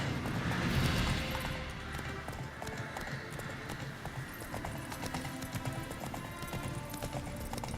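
Roach the horse gallops in Witcher 3, hooves clip-clopping in a fast, steady rhythm over game ambience, with a brief whinny near the start.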